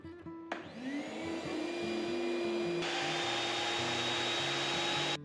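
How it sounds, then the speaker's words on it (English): A shop vac and a power saw run together off a large battery power station alongside a 1500 watt space heater, a steady loud motor whine spinning up and holding with shifting saw tones over it. "the final test, a 1500 watt space heater combined with the shop vac and the power saw."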